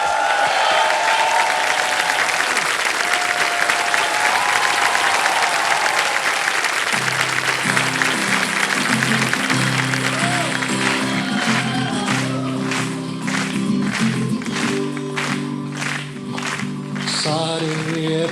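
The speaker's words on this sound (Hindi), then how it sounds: "तालियां बज जाए Bhavan के लिए।" A studio audience on the quiz show Kaun Banega Crorepati claps in sustained, loud applause, joined midway by a rhythmic musical beat and swelling music that continue to the end.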